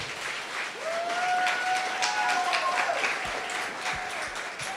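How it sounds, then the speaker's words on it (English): An audience at a Build Academy graduation ceremony applauds the participants with steady, fairly faint clapping throughout, while a thin sliding whistle-like tone rises and falls over the middle. "I would like to ask us to give all of our participants a round of applause."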